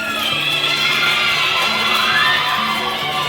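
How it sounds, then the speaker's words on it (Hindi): An audience at a school birthday celebration for a chairman, with disabled students present, cheers and shouts in a loud continuous crowd roar with children's voices prominent. "एक बार जोरदार तालियों से आप लोग स्वागत करेंगे।"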